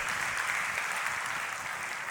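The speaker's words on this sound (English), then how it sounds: "So give her a huge round of applause first for being up at this late." Audience applause at a YMCA World Council panel session, a steady, dense wash of clapping that holds evenly throughout.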